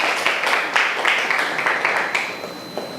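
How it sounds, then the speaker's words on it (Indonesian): Children in a classroom clap together in a loud, continuous burst of applause, close and bright, fading slightly toward the end. "Oke, tepuk tangannya dulu yuk."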